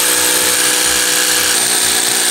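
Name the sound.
power drill boring a new hole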